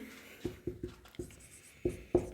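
Pen or chalk writing out geometry working for a circle-area exercise: a run of short, distinct taps and strokes, close and fairly quiet, with uneven gaps between marks and no voice.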